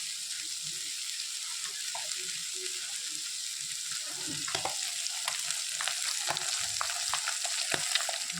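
Fish fries and a vegetable curry cooks in pans on a home stove, giving a continuous soft sizzle and crackle. Scattered clinks of stirring come through, and the sound stays quiet throughout.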